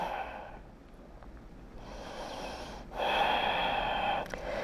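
Slow, audible breaths during a gentle backbend yoga session at home: a soft inhale swells in the middle, then a fuller, louder breath follows near the end, close to the microphone with no talking.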